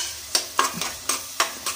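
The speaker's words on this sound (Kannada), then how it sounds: "ಪೆಪ್ಪರ್ ಪುಡಿನೂ ತೊಗೊಂಡಿದ್ದೀನಿ, ಫ್ರೈ ಆಗಲಿ. ನೋಡಿ ಆಗ್ತಾ ಇದೆ ಫ್ರೈ" Paneer fried rice with pepper powder fries in a pan, close up, with a quiet sizzle broken by about seven sharp stirring scrapes at an uneven rhythm, and no voices.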